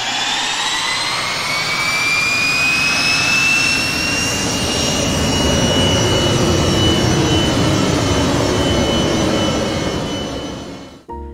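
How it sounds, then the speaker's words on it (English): Boeing 727 low-bypass turbofan engines from a flight simulator add-on roar continuously with a loud, steady whine and rising tonal hum, sustained alone for about eleven seconds before cutting off abruptly. "Take a listen to the historic Jetliners Group Boeing 727 engine sounds,"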